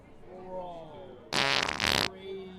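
A loud, juicy cartoon fart bursts out in the middle, roughly three-quarters of a second long, between stretches of animated character speech.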